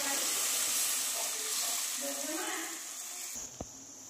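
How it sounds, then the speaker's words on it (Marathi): Water goes into frying green masala, giving a loud close sizzle and bubbling hiss that gradually eases and thins toward the end, with a single small clack. "आता मी त्यात थोडं पाणी टाकते।"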